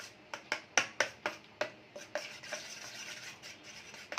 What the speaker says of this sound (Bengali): তো চলো এটা আমি মিক্সড করি